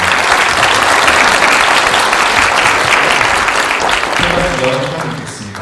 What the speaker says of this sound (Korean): 다들 박수 부탁드립니다